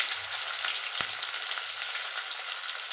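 Chopped onion and tomato frying in a pan give a steady, even sizzle throughout, broken by a single sharp clink near the middle, with no talking.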